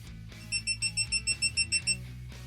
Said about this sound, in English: You will gonna hear this beeping sequence